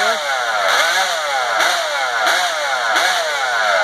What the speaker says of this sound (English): They like to rev them up and blow smoke all over the place and clean them out.